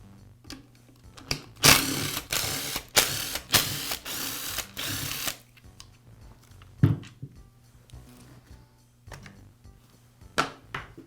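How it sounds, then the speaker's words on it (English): Screws are driven out of the rear handle of a Porter Cable belt sander with a power driver, giving several short whirring bursts and scattered clicks and clunks of parts being handled, close by and without talk. "I'll remove the 6 screws that secure one half of the rear handle."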